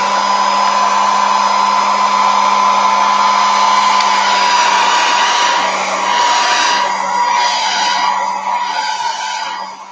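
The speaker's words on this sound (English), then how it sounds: "Hair dryer." A hair dryer blows steadily and loudly over a gel printing plate for ten seconds, its whine slightly wavering as it moves, with no talking.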